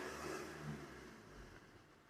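Maruti Swift Dzire engine revving while a service light stays on, a steady close engine hum with a slight swell in revs, no voices.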